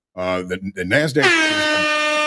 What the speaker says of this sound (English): get out the air horn because it's all-time highs again.